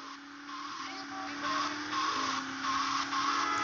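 A fast car in GTA Vice City drives with a steady, buzzing engine drone that swells slightly as it speeds along, holding a constant high whine throughout.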